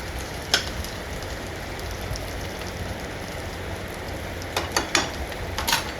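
Potatoes frying in a pan for sabudana khichdi hiss with a steady, soft sizzle, broken by a few sharp crackles and pops, close and fairly quiet with no talk.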